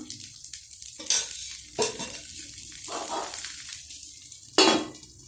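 Kollu (horse gram) dosa batter sizzling and frying on a hot pan as oil is poured over it, with a steady close crackle and a few sharper bursts of hiss.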